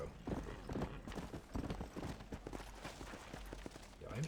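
Horse hooves in the video game Red Dead Redemption clip-clop in a quick, steady rhythm at close range, with a brief whinny, over low ambient background.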